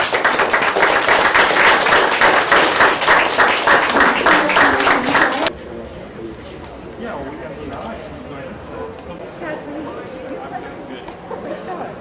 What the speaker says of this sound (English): let's just give a warm round of applause to our panelists